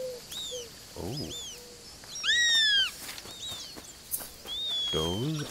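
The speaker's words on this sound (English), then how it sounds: "Those are some seriously loud birds." Loud, bright bird calls ring out in the wildlife video game Alba: A Wildlife Adventure: rising and falling whistles and chirps repeat near and clear, with a few lower warbling notes between them.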